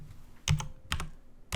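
Keystrokes on a computer keyboard while editing text in video-editing software, close and crisp, falling in short clusters of two or three quick clicks separated by brief pauses.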